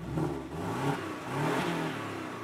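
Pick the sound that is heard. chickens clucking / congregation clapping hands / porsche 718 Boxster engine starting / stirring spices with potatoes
porsche 718 Boxster engine starting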